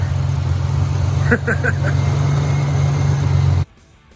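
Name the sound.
1988 Ford Bronco II engine running, warming up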